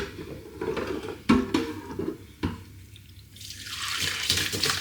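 Pasta cooking water pours through a mesh strainer into a bowl, close splashing and trickling with a couple of sharp knocks, then a steady rushing pour building toward the end.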